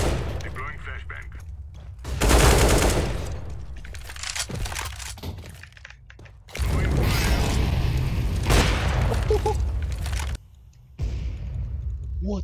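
Grenades and gunfire in Counter-Strike: Global Offensive, with long loud bursts of shots and blasts separated by brief lulls, while voices talk over the action.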